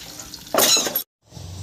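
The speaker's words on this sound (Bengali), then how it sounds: "মাছ ভাজা প্রায় হয়ে গেছে," Fish frying in a pan makes a short burst of loud sizzling hiss partway through. A brief gap of silence follows, then quieter frying noise returns.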